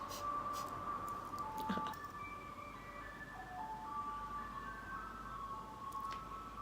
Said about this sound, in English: That ice cream truck, can you hear it?